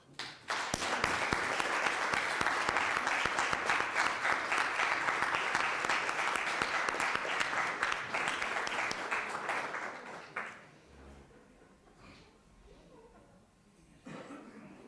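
Applause fills a clergy association's annual meeting, sustained and even for about ten seconds before fading to quiet room noise with a brief bump near the end.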